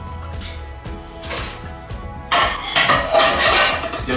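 Handmade dumplings drop all at once into a pot of plain boiling water, giving a burst of splashing and metallic clatter against the pot, loud and close, after quieter kitchen handling.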